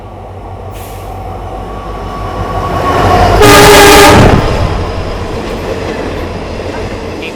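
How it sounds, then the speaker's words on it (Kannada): A Talaguppa–Mysuru passenger train arrives at a station near Mandya, its rumble building as a loud, sustained horn blares for about a second before fading into rolling wheel noise. "ತಾಳಗುಪ್ಪ ಮೈಸೂರು ಬರ್ತಿದೆ"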